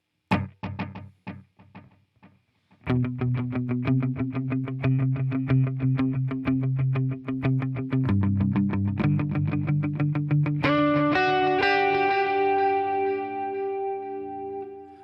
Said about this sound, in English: This is my dual delay. This is running 2 delays, 1 dotted eighth, 1 eighth